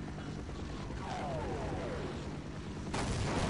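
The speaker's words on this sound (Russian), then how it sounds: "О, взрывы. Стрельба," Gunfire and explosions in the video game Half-Life: rumbling blasts and scattered shots over a constant low din, with a louder burst near the end.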